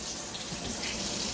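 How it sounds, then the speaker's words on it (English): Water runs steadily from the faucet of a large jacuzzi tub in an oceanfront resort room in Myrtle Beach, a close, continuous hissing splash with no voices. "The big jacuzzi tub, which we'll try out when the babies come up, but the water does run."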